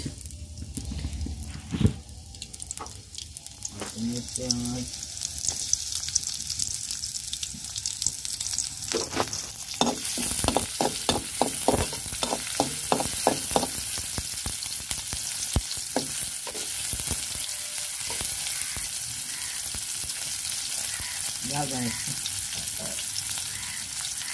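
Onions fry in oil in a pan for a home-cooked lunch, giving a steady close sizzle broken by repeated scraping and stirring clatter, with no talking.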